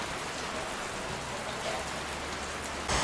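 Rain falls steadily on Guam, a dense, even patter on surfaces heard close and fairly loud, with a brief louder burst at the very end.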